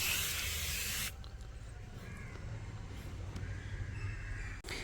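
3M foam interior cleaner hisses from a can onto a car seat in one loud, steady spray burst of about a second, followed by faint quiet room noise.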